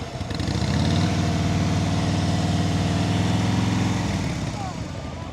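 Motorcycle engine at low, steady revs during slow-speed riding skills practice around cones in Michigan, a near, continuous idling drone that stays even before easing off at the end.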